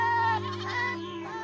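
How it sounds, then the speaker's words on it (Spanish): A goat gives one sustained, wavering bleat, close and clear, with no talking. "estaban balando y corriendo emocionadas"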